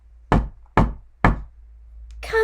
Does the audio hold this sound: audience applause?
no